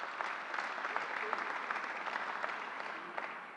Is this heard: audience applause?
yes